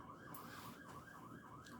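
A siren wails in the distance, its pitch rising and falling in a steady repeating cycle, faint and continuous.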